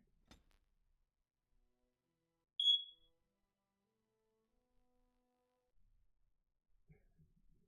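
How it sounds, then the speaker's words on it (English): A fire alarm in a room lets out a single short, high-pitched chirp in an otherwise quiet space, with only faint rustles before and after. "it seems like my fire alarms are doing something strange."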